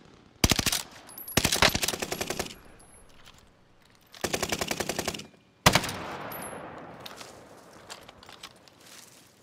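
Bursts of automatic gunfire from a hard-recoiling rifle in Call of Duty: Modern Warfare, loud, rapid volleys in four separated strings with brief gaps, the final burst trailing into rattling debris and faint background noise.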